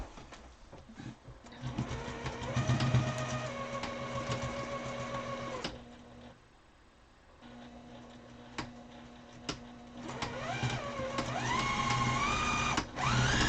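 A domestic sewing machine runs in bursts while sewing a fabric mask and skipping stitches, its motor whirring with a rhythmic ticking needle, pausing briefly midway before starting up again.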